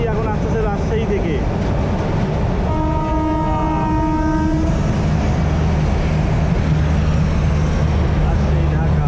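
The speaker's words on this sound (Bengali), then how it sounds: "আর এই যে মধুমতি এখন আসতেছে রাজশাহী থেকে।" Madhumati Express from Rajshahi rolling into Gandaria railway station near Dhaka: a loud, steady rumble of wheels and carriages throughout, with a drawn-out horn blast in the middle, while someone talks over it.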